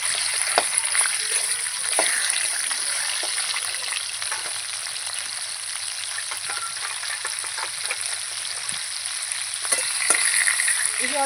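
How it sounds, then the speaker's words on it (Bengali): Fish heads fry in hot oil, a loud, steady crackling sizzle running throughout with small spitting pops and the occasional stir, close up and free of speech. "এবার আমি মাছের মাথাগুলো সব ভেজে নেব এক এক করে।"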